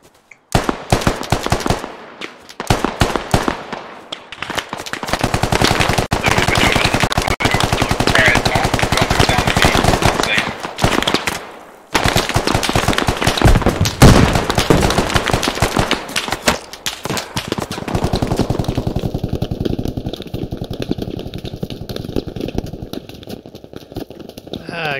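Rapid bursts of automatic and single-shot gunfire from the military shooter game Squad crackle close and loud through most of the stretch, pausing briefly before resuming, with a steady high electronic tone appearing near the end and occasional voices underneath.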